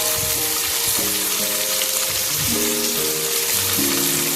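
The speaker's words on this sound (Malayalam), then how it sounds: "ഇനി നമുക്ക് ഇതിനെ നമ്മൾ ചിക്കൻ ഫ്രൈ ചെയ്യുന്ന ചെമ്പിലേക്ക് ഇട്ട് കൊടുക്കാം." Part-cooked rice tipped into the large pot where chicken was fried for chicken majboos, raising a dense, loud, close sizzle that runs without a break.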